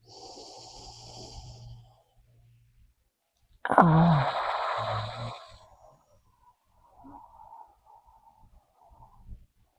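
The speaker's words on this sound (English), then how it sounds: "Nice deep inhale. Exhale. One more breath cycle." Slow, deep yoga breathing: a soft airy breath, then a longer, louder inhale and exhale through the nose and mouth, close to the mic and otherwise quiet.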